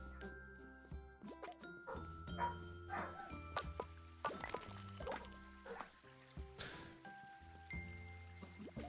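A person imitates a dog barking with the voice, giving several short, punchy bark-like yelps amid a busy, cluttered background of game music and clicks.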